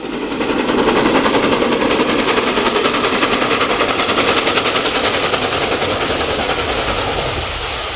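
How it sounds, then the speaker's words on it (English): LMS Stanier steam locomotive 6233, in Crimson Lake livery, climbs Dainton Bank in October 2002, a loud, sustained, rapid roaring exhaust beat that holds steady throughout and fades slightly near the end. "The loco attacks Dainton Bank in October 2002."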